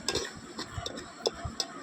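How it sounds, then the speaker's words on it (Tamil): A spoon stirs native chicken curry in a pot over a wood fire, giving light, rhythmic metallic ticks and scrapes at close range, with a faint background hum. "அண்ணன் அதுக்கேற்றப்ப அப்படி அழகாக கிண்டி விட்றாரு பாருங்கள்"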